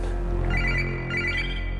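Telephone ringing during a spell of nuisance calls to a home, a continuous electronic warble that swells and repeats over a low steady hum, fairly close and alone without any voices.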